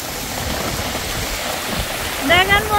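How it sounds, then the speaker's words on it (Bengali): Heavy storm rain pours down with gusting wind in a broad, steady roar close by, and a voice calls out briefly at the end. "দেখেন বন্ধুরা, কত জোরে বৃষ্টি এসে গেছে।"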